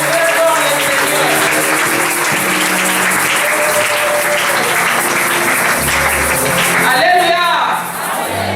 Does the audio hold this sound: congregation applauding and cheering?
yes